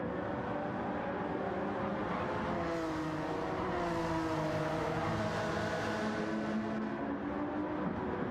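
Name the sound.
race cars in Gran Turismo 7 video game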